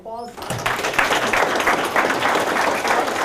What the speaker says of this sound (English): Give a fellow a round of applause.